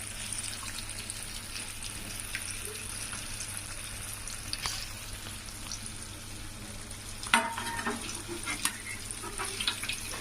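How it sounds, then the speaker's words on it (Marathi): Pomfret (halwa) fish frying in oil in a pan, one side browned under a spice-masala coating, giving a steady broadband sizzle throughout with a few brief sharper crackles and clinks partway through, no voices. "हे बघा मस्त एका बाजूने आपली फिश फ्राय झालेलं आहे"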